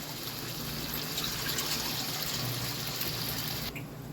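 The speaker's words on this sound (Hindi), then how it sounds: "इसमें हम डाल लेते हैं पानी" Water pours steadily into a pan of spiced bottle gourd curry, a continuous close splashing gush that stops abruptly near the end.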